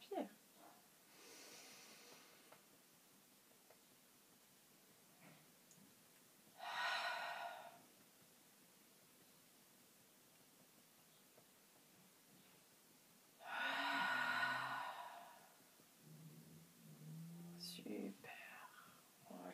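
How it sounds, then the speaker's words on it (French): During a vinyasa yoga breathing exercise, two long, breathy inhales or exhales stand out clearly against a quiet room. Softer breaths come in between, and faint speech-like sounds follow near the end. "ça c'est une respiration que vous pouvez pratiquer le matin en vous réveillant, le soir avant de vous coucher"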